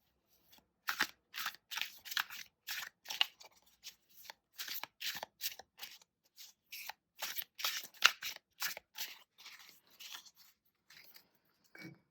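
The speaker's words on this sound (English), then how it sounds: "I'll begin with a quick shuffle." A tarot card deck is riffled and shuffled by hand in a quiet room, giving a close, crisp run of rapid papery snaps and flicks in short irregular bursts for about eleven seconds, with no talking.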